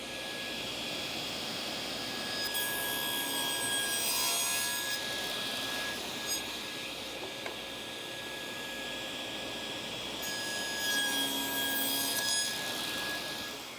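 A table saw cuts a slot for a spline joint in a wooden workpiece held in a jig, a steady whining buzz running throughout with a couple of brighter, harsher passes as the blade bites into the wood.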